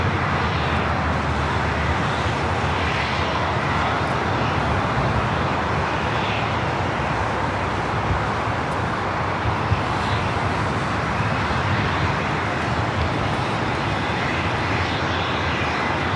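A Boeing 787 Dreamliner takes off from runway 25 at LAX, its jet engines holding a steady, loud roar across the whole stretch with no voices.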